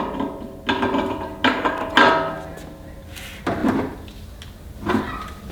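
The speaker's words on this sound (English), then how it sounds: "Stick the auger back in." Metal auger slid back into a Cabela's Carnivore meat grinder, several close clanks and scraping knocks in irregular bursts, each fading quickly between quieter gaps.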